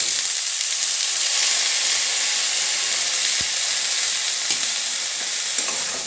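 Chopped onions fry in a pan with fermented fish (shidol) over a low flame, giving a steady close hiss of sizzling from start to finish, with a brief stir or scrape partway through.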